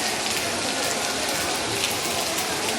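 Rain pours steadily onto a college football ground during an evening match, a dense, even patter of drops that stays uniform and fairly loud throughout, with no voices standing out.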